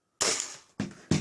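A Kong Lie T-21 toy blaster pistol with a weak, rattling spring fires twice in quick succession, each shot a sharp, close snap with a short rattly decay and no talking.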